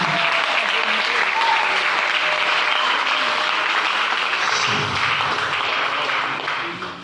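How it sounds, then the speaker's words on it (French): A congregation at a French-language healing prayer service claps for the Lord Jesus, a steady burst of crowd applause with some faint voices mixed in, tapering off at the end. "Est-ce qu'on peut applaudir pour le Seigneur Jésus?"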